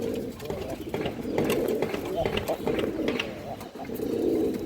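A male pigeon gives a low, throaty cooing close by, continuous and rolling, with someone talking over it.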